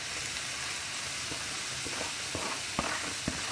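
Carrots frying briefly in a pan, a quiet, even sizzle with a few soft stirring clicks and scrapes near the end.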